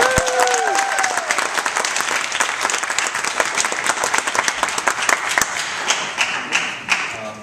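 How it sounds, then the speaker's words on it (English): Warm applause from a convention panel audience, with dense, close clapping and a few brief voices and cheers early on, tapering off toward the end. "Can we give Katie a big round of applause?"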